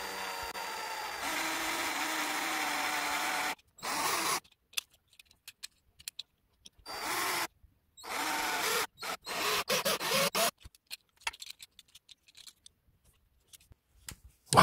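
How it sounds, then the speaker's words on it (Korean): A groove is carved into a plastic Bakuten Shoot and Burst toy launcher part in loud, close, harsh grinding bursts that start and stop abruptly, with a steady whir at the start and no talking. "일단은 천천히 홈을 파내면서 작업을 해봐야겠어요."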